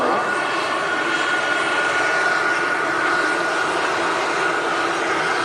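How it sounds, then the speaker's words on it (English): Steady broadband engine roar from a Virgin Atlantic Airbus A330 airliner during pushback at Manchester Airport, a continuous loud drone with a faint high whine that holds level throughout. "There is a Virgin 330 pushing back."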